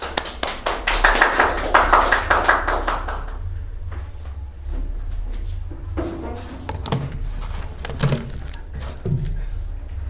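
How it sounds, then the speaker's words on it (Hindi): A church congregation at a midweek prayer service claps hands in a lively, rhythmic burst for about three seconds, then scattered claps and taps continue under talk and room noise. "तो ताली बजा सकते हैं।"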